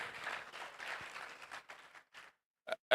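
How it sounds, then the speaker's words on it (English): A round of applause from an audience at a digital and innovation week event in Tamale, Ghana: a dense patter of clapping that thins out and fades into silence, then a couple of brief sharp sounds close by. "Please, let's give them a round of applause."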